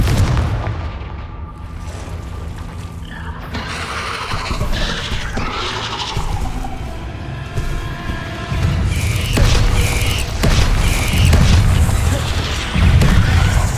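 Fire-spell blasts in the video game Hogwarts Legacy, a dense, loud mix of booming explosions, crackling impacts and rumbling combat effects that swell through the clip with no clear speech.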